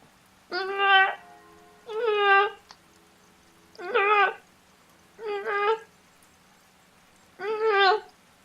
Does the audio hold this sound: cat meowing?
yes